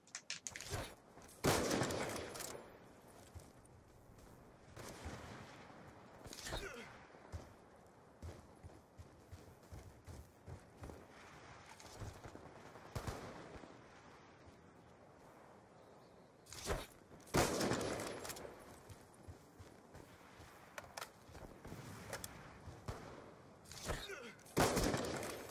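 Gunfire in Black Ops 2, a dense run of sharp shots in bursts with quieter gaps, the loudest volleys clustered near the start and again toward the end, set against a steady game background.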